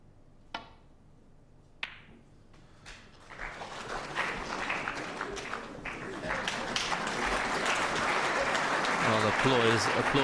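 At a 2011 World Championship snooker semi-final, a few sharp cue-ball clicks give way to a crowd's applause that swells and holds steady for several seconds, with a commentator speaking over it.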